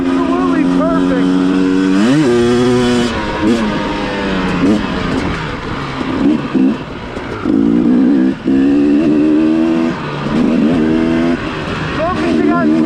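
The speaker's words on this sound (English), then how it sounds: "I just want to ride my motorcycle." An FX350 motorcycle on a Thursday night ride in gale-force wind revs up again and again, its engine note climbing through repeated throttle bursts and gear changes, loud and close throughout.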